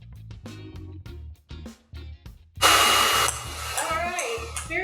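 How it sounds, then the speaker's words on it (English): A blow dryer switches on partway through and blows a loud, steady rush of air for a science experiment. It comes in after a stretch of talk and continues under faint voices. "When I start turning the blow dryer."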